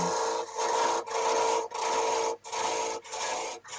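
A wrapping gouge cuts elm wood on a lathe while roughing a small lidded hollow form. The steady, dense rasping cut runs close and loud, broken by short regular gaps as the tool lifts away.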